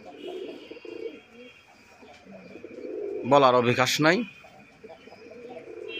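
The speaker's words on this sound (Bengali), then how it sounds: "টপ কোয়ালিটি, দেখার মতো এক জোড়া কবুতর।" A pair of sky-blue Rajgolla pigeons coos softly, with a brief louder burst of voiced sound in the middle and someone speaking briefly at the start.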